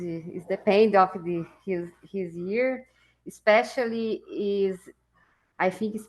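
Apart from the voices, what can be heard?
No everyday noise stands out behind the speech.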